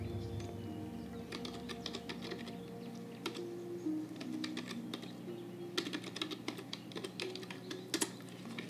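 Quiet typing on a computer keyboard, bursts of light key clicks coming in quick irregular runs with short pauses between, close and soft in an otherwise still room.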